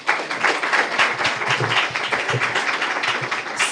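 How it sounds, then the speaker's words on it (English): Audience applause closes a presentation at a conference on small and medium-sized cities in the Baltic Sea region, a loud, even wash of many hands clapping that holds steady throughout without any voices. "Once again, big applause"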